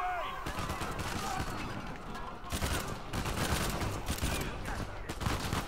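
Dense, continuous gunfire from a firefight in Uncharted 4: rapid overlapping shots and automatic bursts fill the whole stretch, steady and loud with no pauses.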